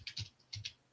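Fingers tap on a computer keyboard in a few quiet, quick clusters of clicks. The keystrokes are close and faint, with short gaps between bursts.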